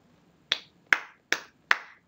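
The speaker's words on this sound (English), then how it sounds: "That's a clap for you because you did a great job." Four crisp, close handclaps, evenly spaced about a second apart, each sharp and isolated against near silence, given as praise during a children's English lesson.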